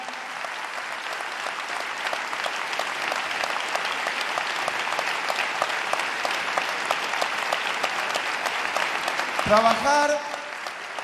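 An audience at the close of a provincial health congress bursts into sustained applause, dense clapping filling the room throughout while a voice speaks over it and briefly rises near the end.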